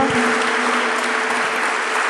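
Congregation at a church gathering claps for the people listening and watching remotely, a steady dense wash of hands over about two seconds, fairly loud and even throughout.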